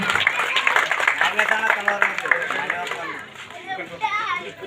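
An audience at a village unit inauguration event in Talikote claps for Nagesh, a dense round of applause mixed with crowd chatter and children's voices that gradually thins out.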